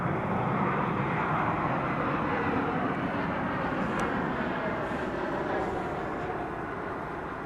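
An airliner at DFW Airport produces a loud, sustained jet engine roar, a broad rushing rumble that holds steady and fades very slightly as it passes.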